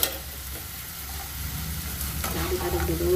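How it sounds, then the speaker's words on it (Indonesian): Tempeh stir-fried in a pan with sautéed spices, a steady close sizzle and frying hiss with light stirring scrapes, no voices. "Tumis sampai wangi."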